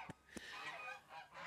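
Geese on a farm honk nearby in a few quick, nasal calls, two sharp bursts, then a longer run of squawking honks.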